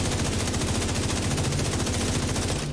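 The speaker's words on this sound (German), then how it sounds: "Wer hat auf mich geschossen?" Sustained automatic gunfire in The Division 2 striking the player, a dense, loud, rapid stream of shots that continues without pause.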